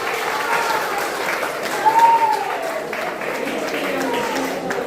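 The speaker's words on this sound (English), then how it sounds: "Big round of applause for Coach Indra." A crowd at a cricket club gathering gives Coach Indra a steady, full round of applause lasting several seconds, with a brief whistle rising over the clapping midway through.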